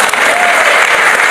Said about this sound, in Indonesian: tepuk tangan semua bagi kalian